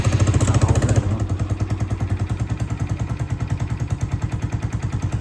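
A Honda MSX125 motorcycle with a lightweight exhaust, baffle still fitted, idles close up. After a brief louder rev at the start, the engine settles into a steady rapid popping putter that continues to the end.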